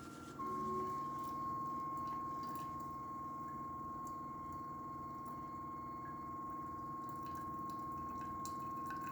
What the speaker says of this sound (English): There's your hot water for you.